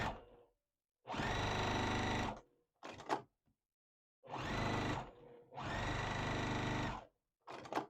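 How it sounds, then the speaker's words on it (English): Sewing machine stitching printed fabric pieces for a quilt sampler block, running in several loud, steady bursts of one to two seconds each, with short pauses and brief stops between runs. "So we're going to sew them together."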